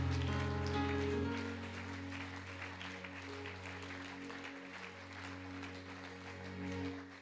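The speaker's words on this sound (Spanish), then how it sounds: "Dele ese aplauso a él, por favor." A church congregation applauds during a Spanish-language sermon, with steady, dense clapping that carries through the whole stretch over low, sustained background tones.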